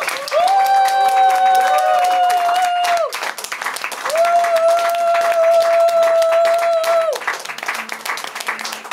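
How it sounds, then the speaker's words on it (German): Loud, steady applause from a club audience at a band's concert night in the Altstadtkeller in Königs Wusterhausen, with a long high sustained whistle-like tone riding over it twice before the clapping thins out. "impulsiven Applaus!"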